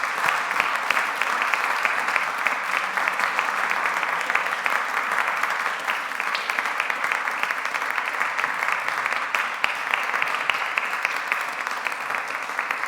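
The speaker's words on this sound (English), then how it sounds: "Can we give one more round of applause for Stephen Williams and all of our performers?" Sustained audience applause at a Bach music festival for the performers, a dense, steady wash of many hands clapping that continues for about thirteen seconds without a break.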